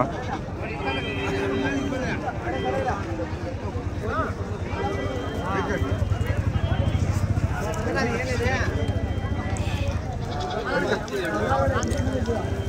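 At a busy goat market, goats bleat repeatedly over a crowded background, with people talking throughout and occasional hoof clatter and rustle nearby.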